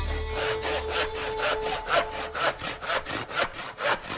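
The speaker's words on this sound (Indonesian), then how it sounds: "bagaimana menggunakan gergaji untuk memotong kayu" A hand saw cuts through wood in regular back-and-forth strokes, each pass a rasping scrape, close and clear with no talk.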